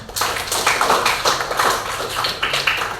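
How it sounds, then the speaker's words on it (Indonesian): A classroom of students applauds a presenting group in a steady burst of dense, lively clapping nearby that lasts about three seconds. "Beri tepuk tangan dulu untuk kelompok 6."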